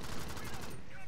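Rapid automatic gunfire from the top-down shooter Alien Swarm, a dense, continuous burst of crackling shots filling the whole moment at steady loudness with no pause.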